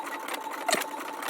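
A Brother MFC inkjet printer printing a test page, giving a steady mechanical whir with fine rapid chatter, close and even, plus a brief click partway through.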